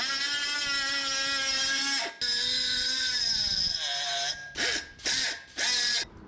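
A small carbide ball bit drills through metal, giving a loud, steady high-pitched whine that bogs in pitch partway through, then breaks into three short bursts with brief pauses between them.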